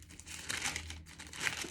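Bible pages rustling and crinkling close by while someone hunts for Colossians, a steady dry papery shuffle with no talk.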